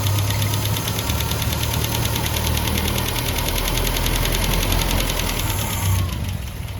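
A Land Rover Series 3 engine runs steadily at close range, a dense mechanical clatter with rapid tappet ticking over a low idle rumble, continuous throughout and easing slightly at the very end.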